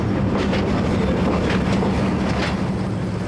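Eastern & Oriental Express train at a station while its partly open-top panoramic carriage is uncoupled, heard as a loud, steady rumble of rolling stock with faint rhythmic clanks and wind noise, no voices.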